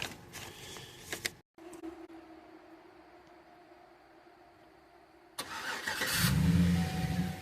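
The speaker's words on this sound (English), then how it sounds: "Remote start even works." A 2008 GMC Sierra 4x4 fleet pickup starts by remote start: a short clicking burst, a brief gap, a faint steady hum, then the engine catches and rises into a louder, rough idle nearby.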